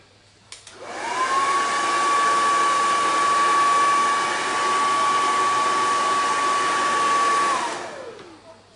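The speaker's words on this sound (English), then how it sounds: "I'm going to blow dry this side." A hair dryer blowing on a chalk craft project switches on and runs as a loud, steady whine for about seven seconds, then cuts off and spins down.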